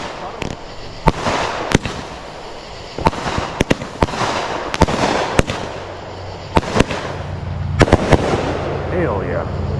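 Finale of a July 4th fireworks display in Texas: a rapid barrage of sharp booms and crackling bursts, many overlapping shots at irregular close intervals, loud and fairly near, with people talking and cheering underneath.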